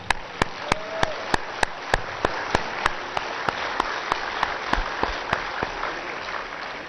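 A large audience at a yoga festival at Patanjali Yogpeeth in Haridwar applauds in a steady, dense wash of clapping, with sharp rhythmic claps cutting through at regular intervals.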